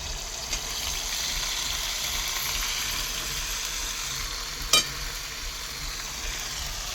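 Garlic and coconut masala paste frying in hot oil on a village wood-fired stove, a steady broad sizzle throughout with one brief sharp clink partway through, fairly close and without talk.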